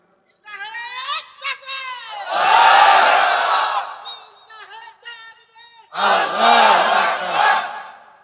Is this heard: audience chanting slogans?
yes